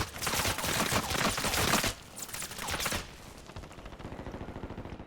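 Rapid automatic gunfire in the video game Warzone rattles in dense close bursts for about two seconds, then a second burst, followed by quieter scattered distant shots.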